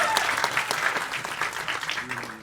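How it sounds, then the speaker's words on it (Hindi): An audience applauds loudly at the Border 2 teaser launch event, a dense continuous clapping from a crowd close by. It tapers slightly at the end as a voice begins to speak. "सनी भाजी के लिए एक बार जोरदार ताली होनी चाहिए."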